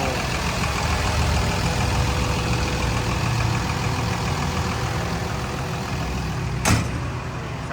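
A 2017 Komatsu WA320-7 wheel loader's six-cylinder turbo diesel engine idles with a steady, low rumble and a faint turbo whine, ending in a brief sharp click near the end.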